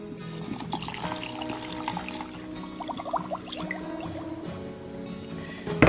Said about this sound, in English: the last thing I need to do is add some white distilled vinegar to some white sugar